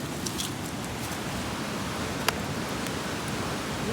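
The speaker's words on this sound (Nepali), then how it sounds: "यहाँबाट पानी निस्केर रहेछ पाइपबाट" Water pouring out of a pipe in the cold Upper Mustang highlands, a steady broadband rush heard from close by with a single faint click partway through, no voices.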